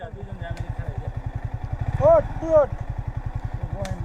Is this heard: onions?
no